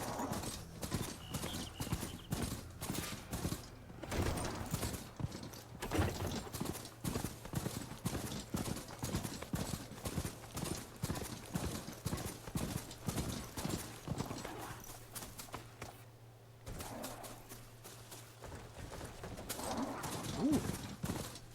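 Rhythmic clip-clop of a galloping mechanical horse mount in Horizon Forbidden West, fast steady hoofbeats throughout with a brief pause before resuming.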